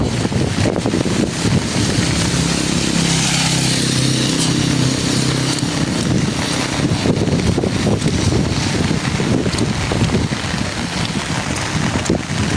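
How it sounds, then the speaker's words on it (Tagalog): Steady, loud wind buffeting the microphone with low rumbling gusts throughout on a dark, rainy day in Can-avid, Eastern Samar, no voices heard. "Mahangin."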